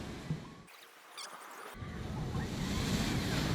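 Water ride at Energylandia amusement park sending out a loud splash of rushing water that swells into a sustained wash of spray, with a short quieter gap before the surge.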